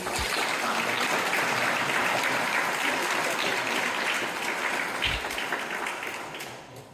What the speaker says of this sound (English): can we get another round of applause for Mathew Murphy?